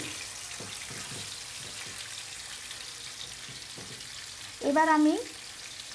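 Hilsa fish pieces fry in hot oil with a continuous close crackling sizzle and a few light clatters as they are turned; someone speaks briefly near the end.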